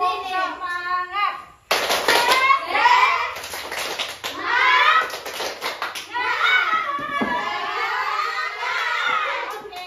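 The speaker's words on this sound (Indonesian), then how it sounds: "Tepuk semangat." Fifth-grade schoolchildren in a classroom doing a rhythmic spirit clap, sharp clustered hand claps in patterned bursts mixed with children's voices and chanting, fairly close and loud.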